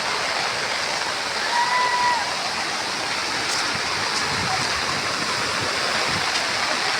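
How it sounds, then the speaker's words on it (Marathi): A waterfall viewed from a distance pours with a constant broad rushing roar, uniform and unbroken for the whole stretch, with no clear talking. "हा बघा धबधबा."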